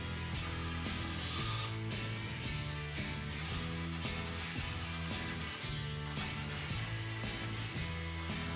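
An Axial SCX24 RC crawler fitted with a KYX aluminum battery tray strains its small electric motor against a rough 50-degree plywood slope, giving a continuous close whirring and grinding with rhythmic pulsing gear noise throughout.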